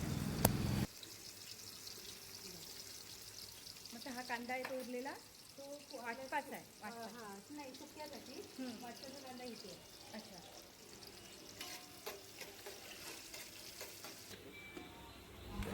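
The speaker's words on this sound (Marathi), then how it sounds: "फोडणीमध्ये जिरे मोहरी टाकली गेली आणि त्यावर कांदा टाकला गेला" Onion frying in a cumin and mustard seed tempering for Kolhapuri mutton sizzles quietly in a pan, with stirring, while a person talks over it for much of the time.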